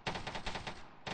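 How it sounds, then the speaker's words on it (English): Rapid automatic gunfire in the military shooter game Arma 3, a dense burst of evenly spaced shots, fairly faint, with a brief pause and a short resumed burst at the end. "They're shooting at me."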